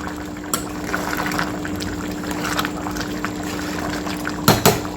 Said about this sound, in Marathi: आपल्या खिचडीला छान उकळी आलेली आहे याला छान हलवून घ्यायचं आहे